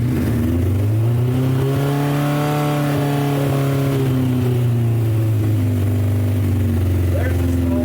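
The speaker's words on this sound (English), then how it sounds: "Fired right off. Gotta love old Japanese motorcycles." An old Japanese motorcycle that sat unused for 12 years runs after a Mikuni carburetor cleaning, its engine loud and close with a steady idle whose pitch swells and eases.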